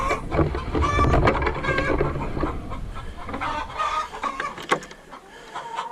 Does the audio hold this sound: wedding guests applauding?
no